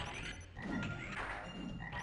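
Frog enemies croaking in the video game Megaman Legends 2, faint low croaks and soft thuds repeating over a continuous game background.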